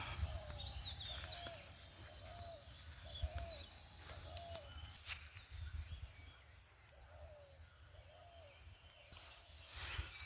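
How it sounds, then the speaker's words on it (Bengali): Dove cooing in a hot, sunny village beside ripening rice fields, a series of soft repeated coos at moderate distance over a steady low rumble and faint chirps from other birds. "ঘুঘু পাখির ডাক শোনা যাচ্ছে"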